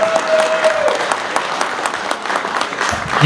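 Classmates at a reunion gathering clap together in a steady, dense round of applause indoors, loud and close, with a brief tone at the start and no talk over it.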